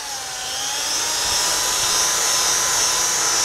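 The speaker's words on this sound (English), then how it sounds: "you can run the drill slow." A drill spins a buffing ball polishing metal motorcycle parts with Flitz, a steady high-pitched whine that holds and rises slightly, close and continuous.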